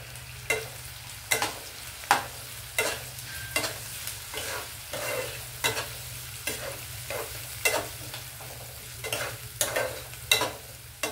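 Onions with turmeric and potatoes frying in a pan, a low steady sizzle broken by regular sharp scrapes of a spoon stirring, roughly one every second, close and clear.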